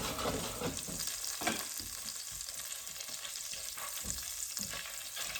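Butter melting into olive oil in a hot pan sizzles and spits steadily, a soft, continuous frying crackle with scattered pops heard alone, fairly quiet throughout.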